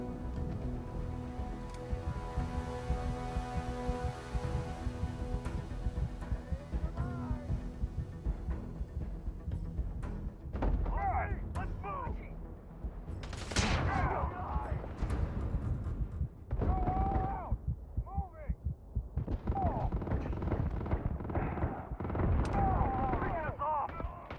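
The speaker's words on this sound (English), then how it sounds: "I don't know why he's throwing grenades." Grenade explosions and gunfire in Starfield, sharp booming blasts and bursts clustering in the second half over a low hum, with people talking at times.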